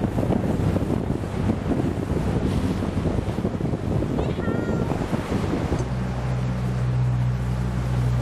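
Waves at Knysna lagoon on South Africa's coast, where it meets the Indian Ocean, roar in a loud, dense wash of surf and wind buffeting the microphone, with a lower rumble like a boat engine toward the end.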